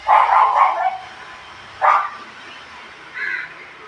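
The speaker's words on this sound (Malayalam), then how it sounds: "പട്ടി കുരയ്ക്കുന്നുണ്ട് പട്ടി കുരയ്ക്കുന്നുണ്ട്" A dog barks in a few sharp bursts: a quick cluster at the start, then a single bark, then another after a pause, moderately close.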